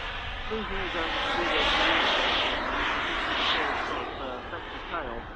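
Model jet with a moving thrust-vectoring exhaust nozzle flying at a model airshow, its engine roar steady and loud throughout, rising and falling slightly as it passes, with a commentator talking over it.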